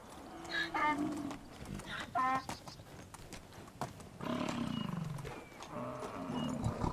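Wisent (bison) calls in the Medieval Dynasty video game, several harmonic bellowing grunts at mid distance in bursts, with rustling and game ambience around them.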